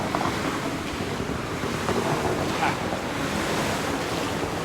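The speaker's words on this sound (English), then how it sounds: "This hot spring just in the middle of the mountain range. That is properly bubbling." A hot spring in the mountains of northern Thailand bubbles with a continuous, fairly soft, hissing water rush that has no talking over it.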